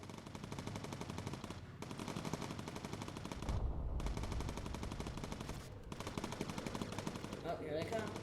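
Sustained machine gun fire from a bomber's defensive turrets in the Bomber Crew video game, loud and continuous bursts with brief gaps, accompanied by a voice talking over it.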